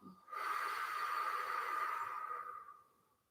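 A long, slow exhale during a morning yoga stretch: a steady breathy rush of air through the nose or mouth, close and even, fading out gently after about three seconds.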